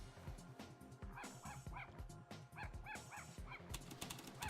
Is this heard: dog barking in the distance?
yes